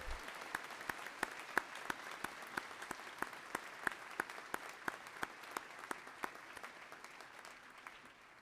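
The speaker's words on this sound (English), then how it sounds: "Please join me in a round of applause" An audience applauds at a naval postgraduate school graduation ceremony, steady moderate clapping from a crowd heard at a distance, sustained throughout without voices.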